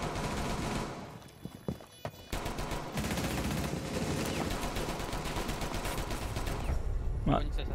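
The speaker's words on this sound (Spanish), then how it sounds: "Yo disparando al aire" Gunshots fired into the air in a zombie apocalypse video game ring out as loud, dense bursts of rapid fire, with brief pauses between volleys and steady game background noise.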